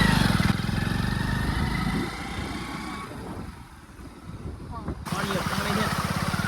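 A motorcycle engine putters nearby, its rumble rising and dipping as it passes, with people talking over it.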